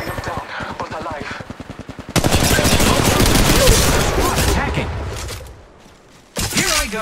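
Rapid automatic gunfire in an online shooter video game, a loud sustained stream of bursts with a staccato volley at first, then dense continuous firing that fades briefly before another loud burst.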